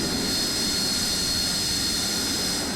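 Steady, loud roar of an F-16 jet engine running in the Falcon BMS flight simulator game, a continuous broadband rumble with a high whine on top, unchanging throughout and with no talking.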